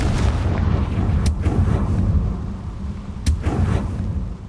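A Confringo spell explosion in a video game, heard as two deep booming blasts a couple of seconds apart over a low rumbling background, loud and close.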